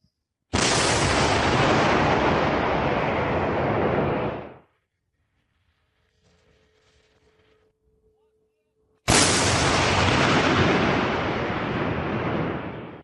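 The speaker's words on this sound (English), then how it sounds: "155mm American M114A2 howitzer operated by the combat crew of the 71st Air Assault Brigade" A 155mm American M114A2 howitzer fires in the field: two deafening, close blasts, each roaring and rumbling for several seconds, separated by a quiet stretch with a faint hum.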